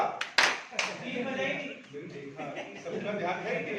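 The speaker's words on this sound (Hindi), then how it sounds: "मैं 3 बोलने पे ताली बजेगी।" A group in a classroom training session claps together on a count of three, a couple of sharp bursts near the start, followed by people talking and chuckling.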